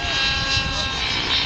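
A radio-controlled model helicopter flying aerobatics, its small engine screaming at around 14,000 RPM with the rotor head near 2,200 RPM, gives a steady, loud, high-pitched whine with a continuous rotor drone.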